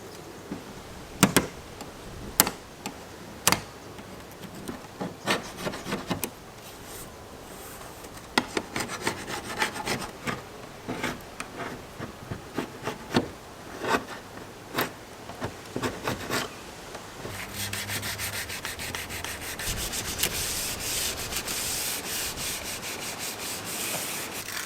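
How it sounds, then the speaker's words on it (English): A part being sanded by hand before a plastic dip coating, with steady abrasive rubbing strokes that run continuously and grow denser and harsher toward the end, close and alone. "I've sanded it up, I've prepared it, wiped it down, cleaned it up"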